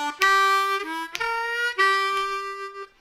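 Lick number seven on a C harmonica: a solo blues phrase of held draw notes with bends and short triplet bursts, close and clear, tapering off at the end.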